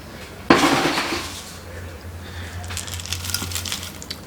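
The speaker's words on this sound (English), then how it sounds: "Now I'm just going to start putting in the soil." Bonsai soil for conifers pours into a pot over a drainage screen while a false cypress is potted, starting with a sharp gritty rush that tapers into a steady granular hiss and scattered trickling.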